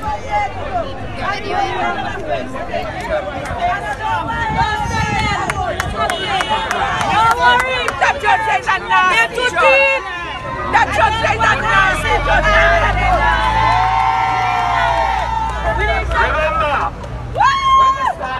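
Dense crowd babble at an outdoor political gathering in St. Vincent for the opposition leader, a steady loud hubbub of many voices with a nearby voice speaking over it.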